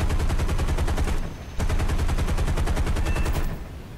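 Continuous rapid machine gun fire from an F6F-3 Hellcat fighter in the War Thunder combat game, two loud sustained bursts with a brief pause between them and no talking.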